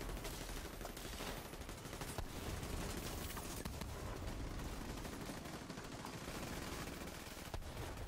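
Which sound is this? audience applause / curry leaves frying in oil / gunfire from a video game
gunfire from a video game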